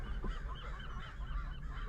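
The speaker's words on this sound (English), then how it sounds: "I'm scared of these seagulls." Seagulls calling near a parked car, a couple of honking squawks repeated over a steady background rumble, loud and close.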